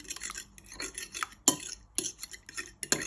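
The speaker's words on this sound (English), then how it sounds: "But you're just finishing off whisking your eggs like that." Eggs being whisked in a bowl as part of a wet batter for a rocky road cake, heard as irregular clinking strokes of utensil against bowl, close and fairly quiet, with no talking.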